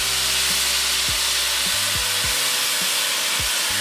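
Water poured from cups into a hot pan of rice with broccoli, a loud steady hiss and sizzle throughout, with a few clinks and knocks of cookware in the background and no talking.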